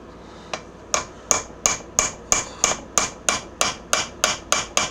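On a John Deere LA125 mower deck spindle, a hammer taps a metal spacer about a dozen times in an even rhythm. Each blow is a sharp, ringing metallic strike, close and clear, with no talking.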